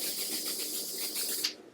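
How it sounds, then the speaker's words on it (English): Makeup setting spray is misted onto the skin in one close, steady hiss lasting about a second and a half before it cuts off. "Just be very careful and do a quick spray on the skin."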